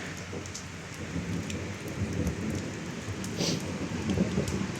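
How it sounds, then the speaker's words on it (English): A steady downpour of rain with rolling thunder during a Friday afternoon thunderstorm in Pittsburg, Kansas, a dense continuous hiss with low rumbles swelling and fading, close and fairly loud with no talking. "You enjoying the storm too?"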